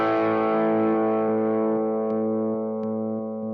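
A guitar amplifier with its cut switch engaged rings out a single sustained, slightly distorted chord that slowly fades, with a few faint picking ticks near the end.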